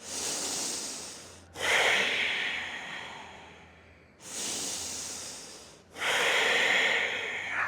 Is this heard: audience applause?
no